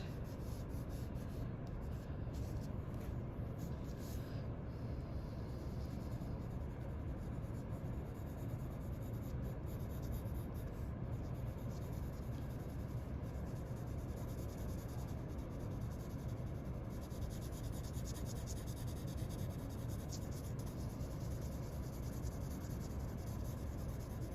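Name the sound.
pencil lightly shading a drawing on paper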